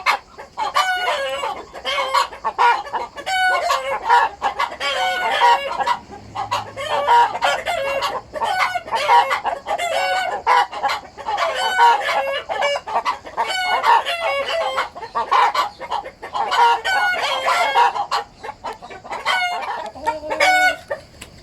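Hens in a henhouse with Bielefelder and Malines Turkey Head breeds cluck and call continuously, rhythmic repeated cackles close by filling the whole stretch.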